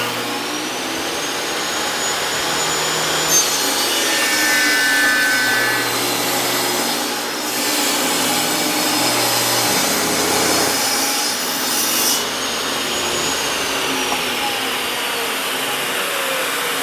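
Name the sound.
sawing a cut in wood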